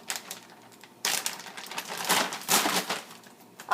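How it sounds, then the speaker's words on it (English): A sausage package being torn open in a home kitchen, a few sharp crinkly rips of plastic film with a brief quiet pause before the loudest tearing bursts. "Tear across for the sausage."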